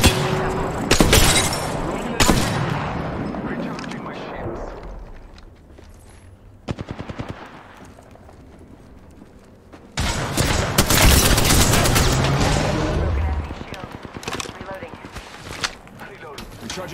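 Gunfire in a video game comes in loud, rapid automatic bursts, with long stretches of heavy firing, quieter pauses between them and scattered single shots, while voices speak over parts of it.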